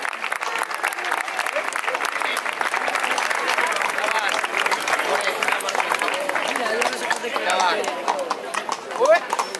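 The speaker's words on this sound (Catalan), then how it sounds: "Un aplaudiment per a Colom." Crowd applause at a Sant Antoni Abat cavalry blessing in Canals, with horses clip-clopping nearby; steady clapping runs throughout under a continuous voice, swelling slightly at the very end.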